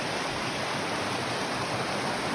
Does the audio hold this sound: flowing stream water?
yes